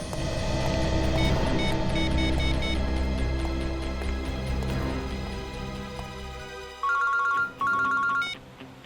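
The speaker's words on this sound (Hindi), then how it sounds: "हाँ चित्रोले सर, कहिए, क्यों फोन किया?" A phone ringtone plays a repeating electronic melody, then short bursts of beeping ring tones toward the end, loud and close with no talking.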